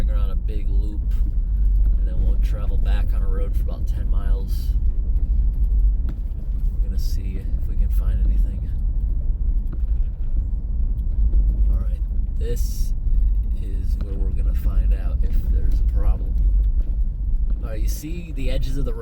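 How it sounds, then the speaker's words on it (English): A car travels a rural road in Northern Maine in October, its engine and tyre rumble steady and close throughout, with occasional faint higher scrapes and a voice speaking at times. "right now I'm driving around a big loop, and then we'll travel back on a road for about 10 miles"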